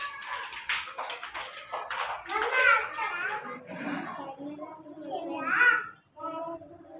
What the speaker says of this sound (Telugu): మీరు క్లాప్స్ కొట్టండి సుశాంత్కి,